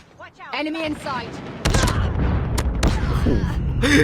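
A GKS gun firing in Call of Duty Mobile, heard as rapid loud bursts of shots with booming impacts, mixed with game effects and excited voices talking.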